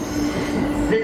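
A JR E231 series rapid train on the Joban line runs along the rails, giving a steady close rumble and rolling rail noise with a faint high tone, with no talk over it.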